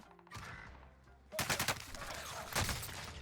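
Bursts of rapid gunfire in the Warzone video game, crackling in two close clusters over a quieter background with faint distant shots.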